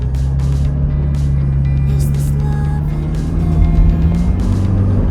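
Toyota Fortuner SUV driving at around 100 on the road, a loud, constant engine and road drone with tyre rumble heard from inside the cabin, steady throughout with no speech.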